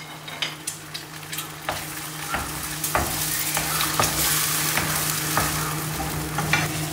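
About five or six eggs are stirred and scrambled in a frying pan, with scraping strokes tapping at an irregular pace over a sizzle that grows steadily louder.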